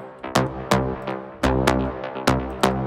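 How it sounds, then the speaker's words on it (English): Bass shot samples for electronic music production, deep punchy hits with bright attacks repeating in a steady rhythm, about seven shots in under three seconds, loud and alone with no talk. "We have these bass shots."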